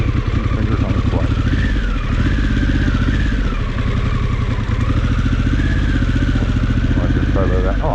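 Adventure motorcycle engine running while riding off-road, a loud steady rumble with shifting revs and some rattling clatter, continuous throughout.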